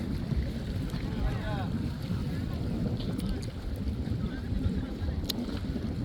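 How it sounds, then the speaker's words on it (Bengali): An engine-driven trawler boat runs on a river. The engine gives a steady low rumble under heavy wind buffeting on the microphone, with faint chirps and brief clicks. "এটা ট্রলার ট্রলার জাতীয় নৌকা, ইঞ্জিন জাতীয় ইঞ্জিন নৌকা।"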